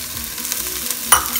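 Spice-coated potatoes stirred in a frying pan, soft scraping strokes over a low sizzle with one sharper clatter near the end, close and fairly quiet.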